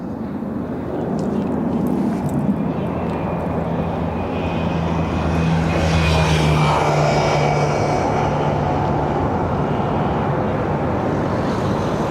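An airliner arriving from Naples lands on runway 24R at Barcelona, its engine roar a broad, loud rumble that swells and holds, with a lower whine running through the middle and easing off toward the end, no talking.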